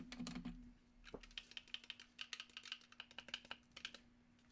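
Custom-built button pads pressed in a quick series of sharp, snappy clicks, close and fairly loud, with a steady low hum beneath and no talking.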